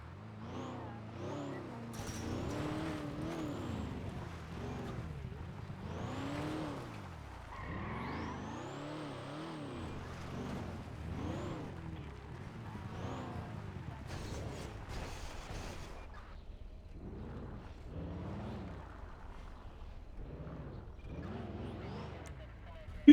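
A tow truck driving in a video game, its engine hum and mechanical whirring running steadily beneath someone talking over most of the stretch.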